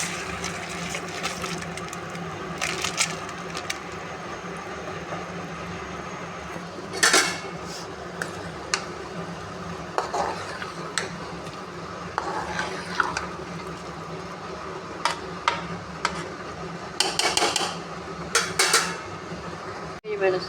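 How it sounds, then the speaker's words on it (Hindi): Soaked rice is tipped into a pot of boiling water for vegetable pulao, heard as repeated metallic scrapes, clinks and knocks of a spoon against the pot over a low bubbling background, fairly close. "अब मैं इसके अंदर चावल डालूँगी।"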